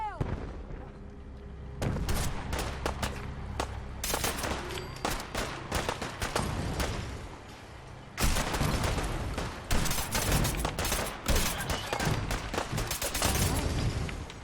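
Dense volleys of rifle and heavy gunfire crackle and boom in Fallout 4's Far Harbor, a loud sustained barrage in two main bursts with shouting voices mixed in.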